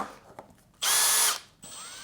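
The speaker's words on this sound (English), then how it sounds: "it's always good to gradually step up the diameter when you're drilling" A power drill whirs loudly and close for about half a second while boring a hole in a Celestion Ditton 44 loudspeaker cabinet to fit binding posts. A fainter high whine lingers afterward.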